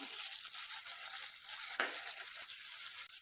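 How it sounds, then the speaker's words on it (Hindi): Chopped tomatoes fry in a pan while cooking for masoor pulao, giving a steady, close hissing sizzle that carries on throughout, with a brief stirring scrape partway through. "तो टमाटर को अच्छे से पका देते हैं।"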